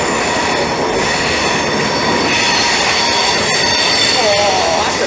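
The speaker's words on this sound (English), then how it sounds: "465004 is now departing onto its next stop of Lewisham" Class 465 electric train pulling out of London Bridge station, a loud, steady rolling roar with a high wheel squeal rising near the end, heard close from the platform.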